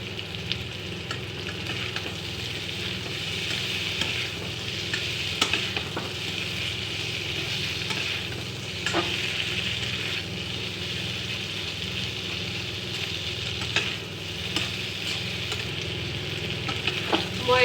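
Cauliflower and fish curry fries uncovered in a pan, a steady broad sizzle running throughout with intermittent scraping stirs of the spatula, close and fairly loud with no talk.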